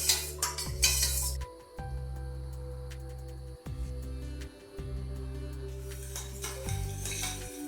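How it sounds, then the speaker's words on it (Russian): A spoon scrapes and clinks around a pot of sauce for a mandarin cake on the stove, in short irregular strokes over a low steady hum. "все хорошенько перемешиваю. И вот содержимое сейчас ставлю на плиту"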